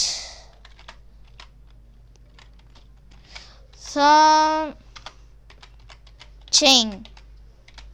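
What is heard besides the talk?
typing on computer keyboard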